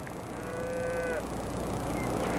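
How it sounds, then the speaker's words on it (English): Cattle moo in a long, loud, drawn-out call at close range, trailing off before a fainter second low over steady outdoor background noise. "You bring them cattle here, mister?"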